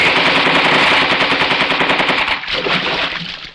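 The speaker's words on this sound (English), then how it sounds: "Keep firing!" Sustained machine gun fire, loud and close, a dense rapid burst of shots that runs almost unbroken, briefly thinning and then resuming.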